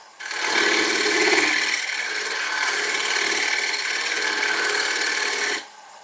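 A woodturning tool cuts into ash wood on a spinning lathe while shaping the foot of a bowl, a loud continuous rasping scrape that runs for about five seconds and then stops.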